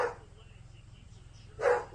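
A pet dog at home barks twice, short bursts at the start and near the end, fairly close, with a low steady background hum between them.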